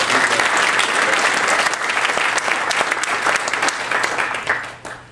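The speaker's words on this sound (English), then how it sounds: "Let's give her another round of applause." A morning audience applauds a county event honoree, a dense, steady wash of clapping that holds strong for about five seconds before tapering off at the end.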